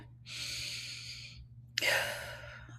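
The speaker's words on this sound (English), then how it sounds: "let me just take a deep breath" A person takes a deep breath up close: a long, airy inhale, a short pause, then a strong sighing exhale, with no other sounds.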